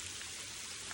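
Heavy rain falls steadily in a monsoon downpour, a dense, even hiss of drops hitting surfaces that stays constant and fairly faint throughout with no voices.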